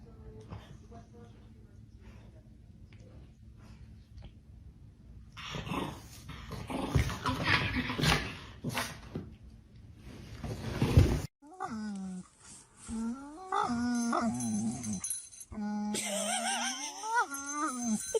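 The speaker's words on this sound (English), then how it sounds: "Guard Chihuahua on duty." A Chihuahua on guard growls low and steadily at first, then breaks into sharp, high-pitched whimpers and yips, close to the listener and fairly loud.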